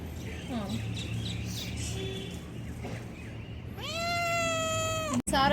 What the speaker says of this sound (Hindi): सारा दिन म्याऊं म्याऊं।